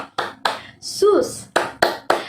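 Sharp, separate hand claps come in a rhythmic chant pattern during an online Sunday school service, several distinct claps around a short sung word from a voice in the middle.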